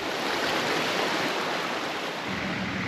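A small creek near a campsite in the Victorian High Country, its current running stronger than usual, rushes in a steady, fairly close wash of water with no other sounds.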